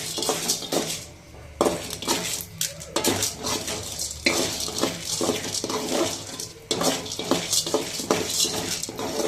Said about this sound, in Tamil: இது கடலைப்பருப்பு போட்டு வறுத்துக்கலாம்.